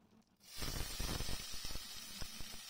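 Ginger paste and green chili hit hot oil for an urad dal with bottle gourd, setting off a sudden, steady hiss and sizzle that carries on softly.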